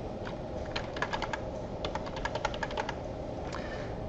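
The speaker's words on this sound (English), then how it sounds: "after typing in your password" Quick, light clicks of keys on a computer keyboard as a password is typed, a short burst of irregular taps at close range over a low steady background hum.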